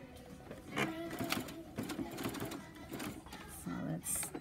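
A small mini sewing machine runs in short stitching bursts, its motor whirring and needle tapping at close range while someone talks over it.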